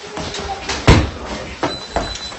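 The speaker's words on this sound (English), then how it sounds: "close the door behind me" A door is pulled shut during a tense indoor team entry, landing as one sharp, close thud, followed by a couple of fainter knocks and movement.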